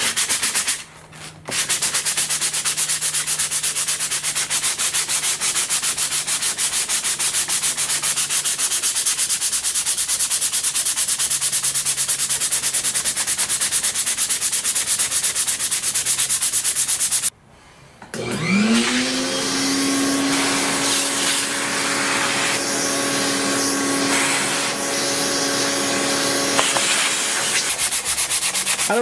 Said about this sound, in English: So I'm just going to continue with this and get these sanded to the same condition as the wing.